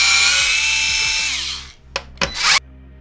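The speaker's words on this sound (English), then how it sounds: "we're gonna want to unscrew these two, this screw, and this screw." Power screwdriver with a T10 bit whirring steadily as it backs screws out of an Xbox One X console, then winding down and giving a few short bursts near the end, with no talking.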